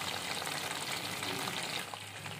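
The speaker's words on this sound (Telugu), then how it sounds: "ఈ లాలీపాప్ని ఆయిల్లో వేసుకునేటప్పుడు ఈ ఫ్రంట్ పార్ట్ ఆయిల్లో ఫుల్గా మునిగేలాగా ఈ బోన్ పైకి వచ్చేలాగా ఇలా వేసుకోవాలి." Chicken lollipops fry in hot oil with a soft, steady, crackling sizzle that runs for a couple of seconds without talk.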